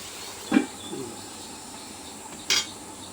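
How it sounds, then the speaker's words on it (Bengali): A lid goes onto a cooking pot in a home kitchen. Two brief, light metallic clinks, well apart, sound against a quiet background hiss. "ঢাকনা দিয়ে দিই।"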